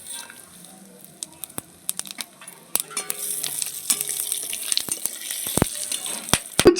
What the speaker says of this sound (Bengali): মাছ ভাজার তেলে আমি ফোড়ন দিয়ে দিচ্ছি গোটা জিরে তেজপাতা